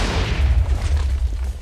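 A TNT cannon in a Minecraft-style block game fires a load of sand, a heavy, low, rumbling boom that swells and fades over a moment, loud and close, with no talking.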